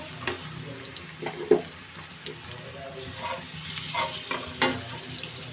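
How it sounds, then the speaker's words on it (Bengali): Tilapia pieces frying in hot oil with fried onion and green chili, a steady soft sizzle broken by several sharper crackles and spatters as the fish settles into the pan. "এবার আমি এর ভিতরে এক এক করে মাছ দিয়ে দেব।"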